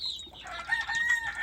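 Chickens cluck and squawk close by in a short burst of a few rising, throaty calls.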